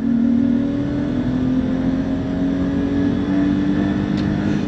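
A 1991 BMW M5 E34 pulls hard in second gear on a highway. Its engine drones loudly and steadily from inside the cabin, with the pitch slowly rising as it accelerates.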